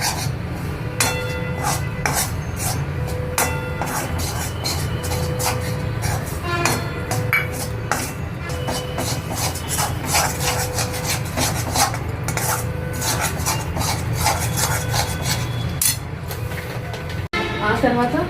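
A spoon stirs cheese pasta sauce in a pan over low heat, making close, steady scraping strokes against the metal in an even rhythm that carries on without a break.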